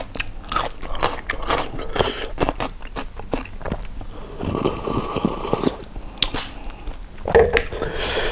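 Close, crunchy chewing and biting of raw shrimp soaked in fish sauce eaten with bitter melon, a steady run of wet crunches and smacks, with brief murmurs between bites.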